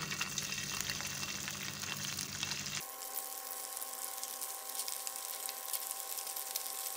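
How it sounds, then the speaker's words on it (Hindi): Chicken pieces frying one by one in half a cup of hot cooking oil in a pan, giving a continuous close sizzle and hiss whose low rumble drops away midway as the bubbling turns thinner and brighter. "उसके अंदर हमारा चिकन 1 बाय 1 डालते जाएंगे और फ्राई करते जाएंगे"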